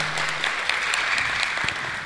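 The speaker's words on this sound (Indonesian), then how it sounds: "Tepuk tangan." Steady applause from an audience at an anti-corruption forum for engineering students, a continuous wash of clapping throughout the short clip.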